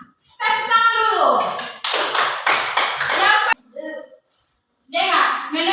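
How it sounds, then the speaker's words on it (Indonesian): A group of schoolchildren claps in a rhythmic patterned beat during a classroom lesson, with chanting voices mixed over the claps in short bursts. "Tepuk tangan dulu"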